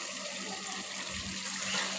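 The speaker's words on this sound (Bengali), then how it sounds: "এই দেখেন আমি পানি দিয়ে দিয়েছি" Water pours steadily into a pan of braised duck meat with potatoes and garlic, a soft continuous splashing rush, close and unaccompanied.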